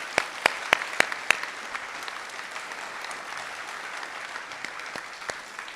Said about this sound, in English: Please give me a round of applause for the students in Science National Honor Society.